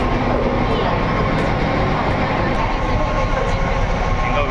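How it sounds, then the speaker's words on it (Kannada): Nilgiri toy train arriving at a station on the Coonoor to Ooty line, a steady broadband rumble of rail cars rolling in close by throughout, with faint voices underneath. "ಟ್ರೈನ್ ಬಂದಿದೆ, ಬನ್ನಿ."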